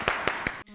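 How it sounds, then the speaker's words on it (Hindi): A studio audience on a talk show claps, three sharp close claps in quick, even succession before the sound cuts off abruptly. "तालियां!"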